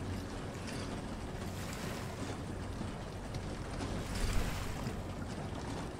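Water rushes and churns as a mill fills in The House of Da Vinci 3, a steady broad wash with a slight swell near the end, no voices.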